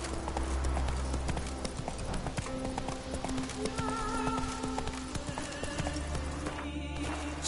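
Hooves of Roach, the horse in The Witcher 3, clip-clop steadily in a game scene, with an occasional whinny and a game music bed underneath.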